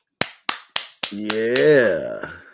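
A clap sound effect plays on a podcast stream as four sharp, evenly spaced claps, followed at once by a drawn-out vocal sound.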